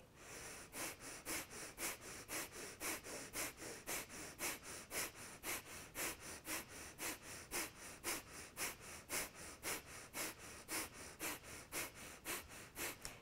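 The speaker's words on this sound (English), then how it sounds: "breath of fire, that sharp exhale out of the nose, the inhale happens naturally" Breath of fire during a Kundalini yoga flow: a long steady train of sharp, rhythmic nasal exhales, roughly two per second, close and clear with no talking.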